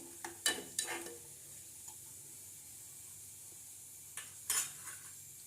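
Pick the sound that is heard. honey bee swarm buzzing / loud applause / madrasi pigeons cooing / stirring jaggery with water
stirring jaggery with water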